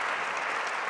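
Brief burst of steady audience applause for the panelists at a talk on strategies for disorganized students, dense and even throughout.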